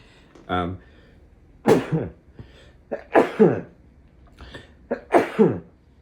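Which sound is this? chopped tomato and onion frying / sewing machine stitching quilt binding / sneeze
sneeze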